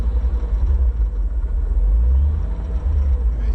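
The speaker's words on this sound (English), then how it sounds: "it's the engine's surging right now" A supercharged Toyota Supra idles with a deep, low engine rumble that swells and sags unevenly as the idle surges, close by and steady with no talking.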